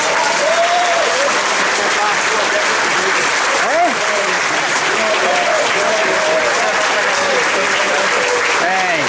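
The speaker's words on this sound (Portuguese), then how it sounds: "Vamos aplaudir Jesus." A church congregation applauds steadily and loudly, with dense continuous clapping and a voice speaking over the applause throughout.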